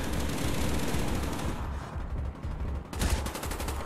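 Heavy automatic gunfire rattles without pause in a Call of Duty Black Ops firefight, loud and close, with a brief dip before another burst.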